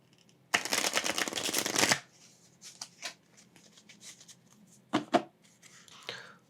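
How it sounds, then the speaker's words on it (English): A quick riffle shuffle of playing cards rattles for about a second and a half, then a few softer card slides and taps follow. "So I'm going to shuffle them up really quickly"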